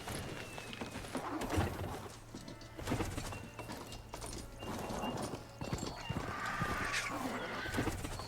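Robotic horse mount in Horizon Forbidden West: repeated clip-clop hoofbeats trot along in a steady rhythm, with mechanical whinnies and clanks over game ambience and music.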